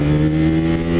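A Bajaj Pulsar 200 NS motorcycle engine on a road gives a loud, steady, close-up drone with a strong tonal hum throughout a brief moment.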